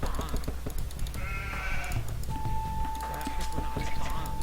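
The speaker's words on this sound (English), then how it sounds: "Okay, sheep over there." Sheep bleat in a few short calls in an Age of Empires II 4v4 match on the Black Forest map, mixed with clicks and other game effects under a voice.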